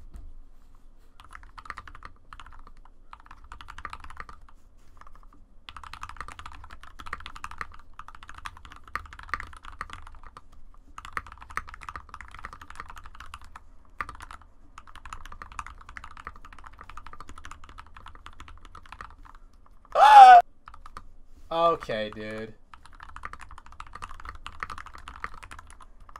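Typing on a $350 custom keyboard during an osu! match, bursts of rapid, soft, close keystrokes separated by short pauses, with a brief spoken exclamation partway through.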